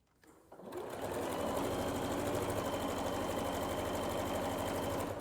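A sewing machine back stitching along a basic envelope pillow seam, starting after a brief pause and then running steadily and loudly at an even, rapid needle rhythm without a break.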